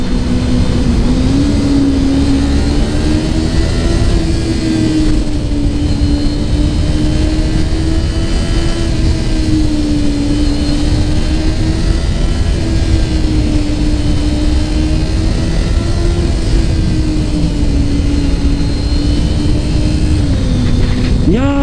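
A 2018 Kawasaki Ninja 250 motorcycle engine drones loud and steady up close, its pitch rising and falling gently with the throttle under strong wind rush, held through a long run at road speed.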